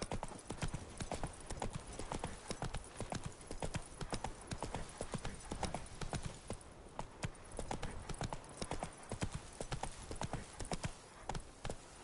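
The horse Roach gallops in The Witcher 3 with a fast, unbroken rhythm of close, clear hoofbeats that continues evenly throughout and has no voices.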